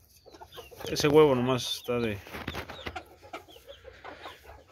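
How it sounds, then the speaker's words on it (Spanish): Young Brazilian hens, still pullets, cluck in a farmyard, a burst of rising, nasal clucks up close that then settles into softer chatter, with someone talking over part of it. "Están las pollas, son pollitas todavía."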